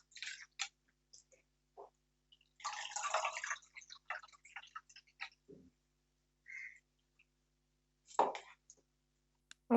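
Water splashing and dripping while varagu millet rice is rinsed in a bowl: quiet, scattered drips and short sloshes with silent gaps between them.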